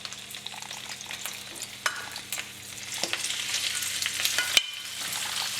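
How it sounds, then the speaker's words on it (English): Steady sizzling and crackling of prawns frying in hot oil for a shrimp asparagus stir fry, with occasional stirring clicks and a sharp tap near the end, close up and continuous. "so when frying prawns"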